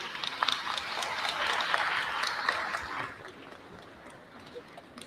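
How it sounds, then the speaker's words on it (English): Audience applause at a Navajo Nation presidential candidate forum at Navajo Technical University, moderate clapping swelling and fading over a few seconds, somewhat distant, with scattered voices mixed in. "let's give a big round of applause to your Navajo Nation presidential candidates"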